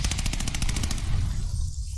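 Steady rapid stream of submachine gun fire from an MP in Call of Duty Vanguard, a dense rattling burst that runs without pause for most of the moment before cutting off.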